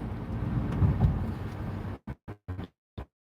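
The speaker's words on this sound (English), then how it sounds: "I'm in my car and I can hear the traffic." Road traffic heard from inside a car driving during the holidays, a steady low rumble that cuts off abruptly partway, followed by a few short, sharp bursts.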